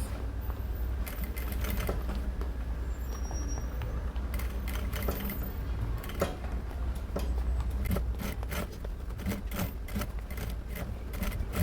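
A domestic sewing machine runs in short rapid bursts, stopping and restarting as it backstitches and then stitches along fabric bias binding, with clattering needle strokes close by and no voices.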